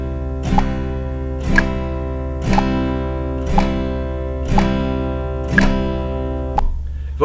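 Guitar strummed in steady down strokes along with a metronome ticking at 60 bpm, one bright strum per tick, seven evenly spaced and ringing under a constant held tone.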